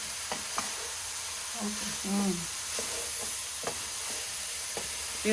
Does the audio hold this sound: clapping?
no